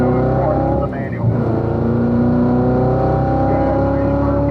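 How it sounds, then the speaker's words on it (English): Race car engine held at full throttle down a straight with upshifts, a steady loud harmonic drone rising in pitch, with a voice talking over it. "Full throttle down the straight, upshifting to fifth for the unknown, fourth for the manual."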